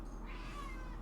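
A pet cat named Genie lets out a single drawn-out meow that rises and wavers, fairly faint and a little distant, over a low steady hum and with no talking.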